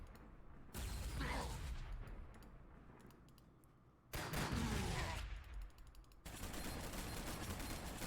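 Bursts of rapid gunfire from flash gits, Ork gunners in Warhammer 40,000: Sanctus Reach, loud and dense, with a sharp break midway before a second volley and sustained rattling fire.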